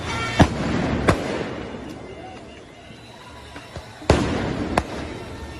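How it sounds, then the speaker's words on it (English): Fireworks thrown at police during a street protest, several sharp loud bangs spaced a few seconds apart over a restless crowd murmur, two near the start and two more toward the end. "Look at this, the fireworks right here."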